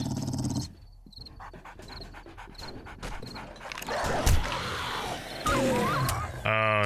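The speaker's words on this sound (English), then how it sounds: "Oh, it's a dog!" Snarling dog in the survival video game 7 Days to Die, with growls and animal cries that rise over the game's ambient noise and the player's voice during a tense encounter.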